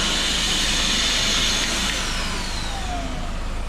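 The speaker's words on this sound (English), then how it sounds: "So vacuum cleaner, it's right here." A vacuum cleaner runs steadily with a loud, continuous whirring roar while glass is cleaned out of a 2021 Mazda CX-5 during sunroof glass replacement, its pitch dipping slightly partway through.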